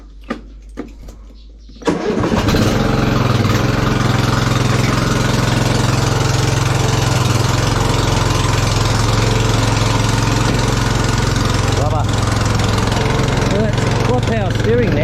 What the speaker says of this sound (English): MacGyver can go home and William can get on the tractor and give it a test.